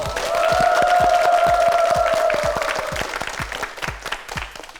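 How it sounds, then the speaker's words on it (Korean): Studio audience on a Korean TV word quiz show applauds for a contestant, a steady wash of clapping under a held electronic tone from the show, thinning into scattered individual claps toward the end. "박수 보내세요"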